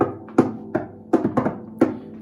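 Harp played percussively like a drum, with a handful of sharp knocks and thuds in an uneven rhythm, some doubled, each with a short resonant low ring, close and moderately loud.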